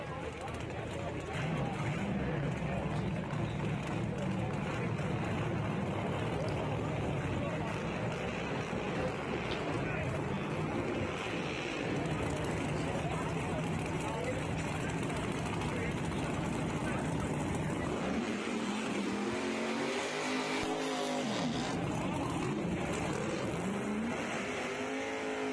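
Drag racing cars roar down the strip at Shadyside Dragway, a loud continuous engine din with a surge near the end, overlaid by an announcer's voice and crowd noise.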